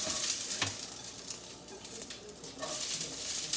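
Steady sizzling and crackling of green beans and garlic frying in a hot pan, close up, with faint stirring sounds and no voices.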